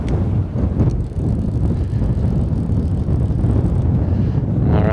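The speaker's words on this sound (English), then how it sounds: "Man, that wind kicked up." Strong wind blows across a river in Montana in April, a loud, continuous buffeting rush that hits the microphone hard and swells slightly in places.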